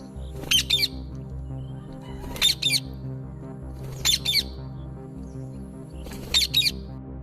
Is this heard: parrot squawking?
yes